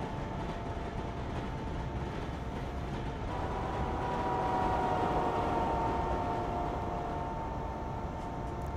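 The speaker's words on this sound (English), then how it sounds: "There's an ICE going through." An ICE high-speed train passes on a Dutch route in Train Simulator Classic, a steady rolling rumble with a faint tonal whine that swells slightly in the middle, heard from a distance and without talk.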